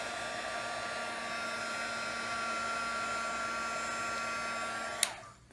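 A hair dryer runs with a steady, even whir while drying wet marker on an altered book page, then clicks off abruptly near the end.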